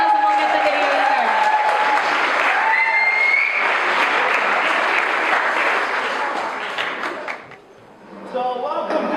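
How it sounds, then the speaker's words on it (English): A round of applause at a fitness challenge finale event, dense and steady from a sizeable audience for most of the stretch, fading briefly near the end before picking up again, with some voices and cheers mixed in. "So let's give Dave a round of applause"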